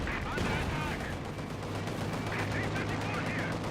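Dense squad gunfire from a Company of Heroes 2 battle, a steady continuous crackle of rifle and machine-gun shots with no pauses, loud and busy throughout.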